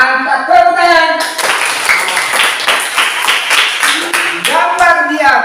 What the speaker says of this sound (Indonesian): Mantap, tepuk tangan.